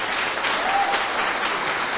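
A church congregation applauds a welcomed visitor, broad steady clapping from many hands filling the room at an even level, with no speech over it.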